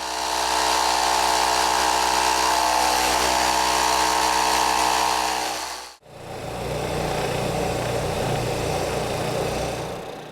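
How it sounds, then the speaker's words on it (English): A jigsaw rough cuts circles out of a panel for a dust collection manifold, a loud continuous buzzing saw drone that briefly cuts out at the midpoint, then restarts with a rougher, lower rattle. "With the starter hole cut, I can take my jigsaw and rough cut out these circles"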